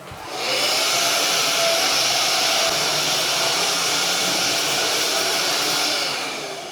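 A household vacuum cleaner with weak suction runs steadily indoors, a loud continuous whooshing drone that rises in at the start and tapers off at the end, with no talk.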